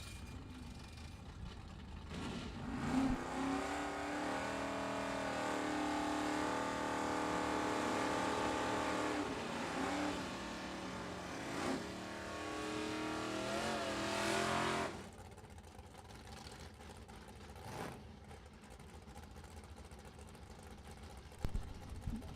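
Drag race cars on a sportsman bracket strip roar loudly with sustained engine noise that builds and holds for about twelve seconds, then cuts off sharply, leaving quieter distant track ambience.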